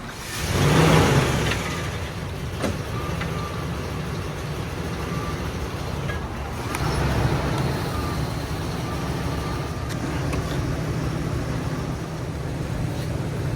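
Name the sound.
Ford truck driving up a ramp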